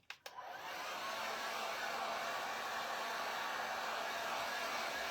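A hair dryer drying a DIY temporary-tattoo platter starts after a couple of brief clicks and then blows a steady, loud whooshing roar that continues unbroken.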